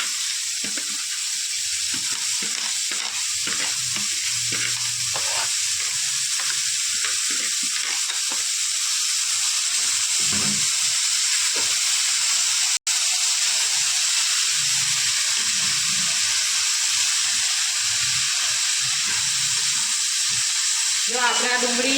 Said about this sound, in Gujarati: જો આપણે આ ડુંગળી તેલમાં નાખી છે.